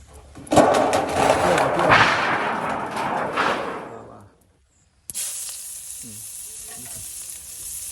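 Onions fry in hot oil in a home kitchen, giving a loud close sizzle with stirring scrapes for about four seconds, then a brief silence and a steadier, fainter hiss.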